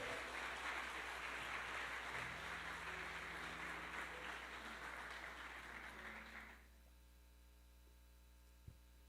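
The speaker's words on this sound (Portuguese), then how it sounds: "E já aplauda Jesus com alegria" Church congregation applauding at the start of a sermon, faint steady clapping over a strong electrical hum that stops abruptly after about six seconds, leaving only the hum and a single soft knock.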